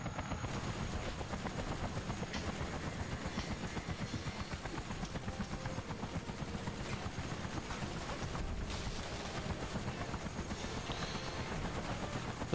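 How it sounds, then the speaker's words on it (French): A helicopter in the Disney Bolt video game, its rotor thudding in a fast, steady chop that holds loud and continuous, mixed with rattling mechanical and gunfire-like game effects. "Ah, j'entends un hélico."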